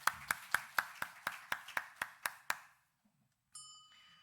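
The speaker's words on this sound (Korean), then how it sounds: "우리 하나님께 감사와 영광의 박수 드리시겠습니다." A Korean church congregation claps during a Sunday morning service, about a dozen crisp, evenly spaced claps in steady unison that fade out, followed by a brief electronic tone.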